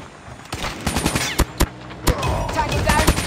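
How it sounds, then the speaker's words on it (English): Sentry gun firing in the video game Call of Duty Mobile on a cruise ship map, rapid bursts of gunfire with sharp individual shots, loud and close over game effects. "Sentry gun deployed."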